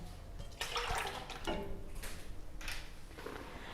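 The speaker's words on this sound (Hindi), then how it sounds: "आलू बुखारे को बॉयल आ चुका है" Dried plums boil in their soaking water in a pan on the stove, giving a continuous bubbling, sloshing sound with a few louder surges.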